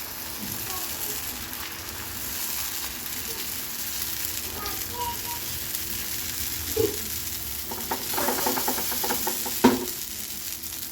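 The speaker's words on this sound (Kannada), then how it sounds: "ಬನ್ನಿ ದೋಸೆ ಬಿಡೋಣ ಒಂದು ದೋಸೆ ಬರುತ್ತಕ್ಕ" Dosa batter sizzling on a hot pan, a steady soft frying hiss throughout with a few brief clinks and scrapes near the end; no speech over it.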